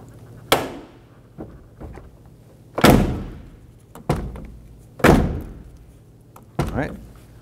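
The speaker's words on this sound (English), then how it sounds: "As we start to close the door, we can feel that switch bottom out right there" The door of a 1997-2006 Jeep Wrangler is shut several times, each a solid close thunk with a short ring-out, spaced a second or two apart, with talking in between.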